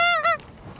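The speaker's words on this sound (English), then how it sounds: "But a lot of geese flying in off the sea," Two loud honking calls from geese flying in off the sea, the second following quickly on the first, then fading into faint background noise.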